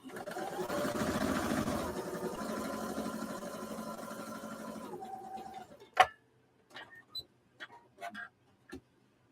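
A sewing machine set to straight stitch runs a steady test seam for about five seconds, a loud continuous mechanical whir with rhythmic ticking, then stops, followed by a few sharp clicks and faint handling noises.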